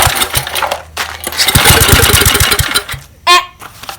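A small Tecumseh HS30 engine, dosed with ether starting fluid, cranks and sputters, catching briefly in a rough burst of firing before dying away, followed by a short clank; loud and close.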